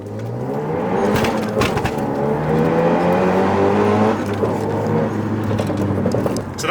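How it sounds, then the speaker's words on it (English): Renault Megane RS engine droning loud and close from inside the cabin while driving, its pitch rising and falling through the gears, with a few brief clicks and knocks over the steady engine roar. "So that was me driving the car."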